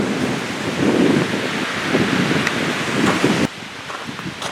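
Wind gusting outdoors by the East Fork River, a loud, close rushing roar that swells and eases over several seconds and then drops abruptly near the end.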